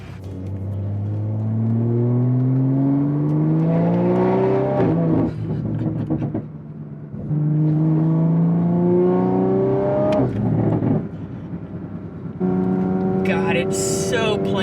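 A car on a test drive accelerates hard through several gears, the engine note climbing in repeated loud rising sweeps broken by brief gear-change pauses, close up from inside the cabin.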